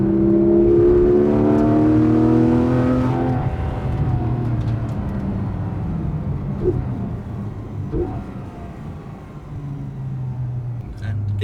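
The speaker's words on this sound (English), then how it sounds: "it's amazing how quickly and how hard the cut is on the limiter" A free-spinning turbine-style car engine revs hard and climbs up to the rev limiter, then cuts sharply, with the rising whine loud for the first few seconds before dropping away as people keep talking over it.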